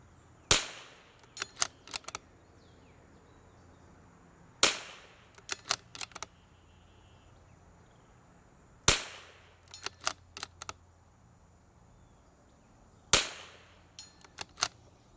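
A precision .22 LR rifle fires at a target 150 yards out, four sharp, crisp shots spaced about four seconds apart, each trailed by faint distant metallic pings, over quiet outdoor background.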